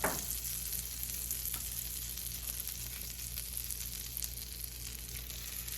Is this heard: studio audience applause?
no